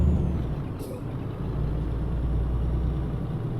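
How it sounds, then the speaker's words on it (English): A steady low engine rumble from a Scania truck in the game Euro Truck Simulator 2, with a hiss of air brakes, continuous and fairly quiet throughout. "we've got the brake noise"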